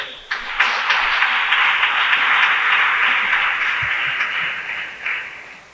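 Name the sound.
congregation applauding the Lord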